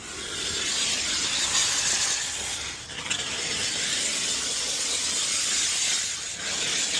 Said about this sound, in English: So it's steam clean time.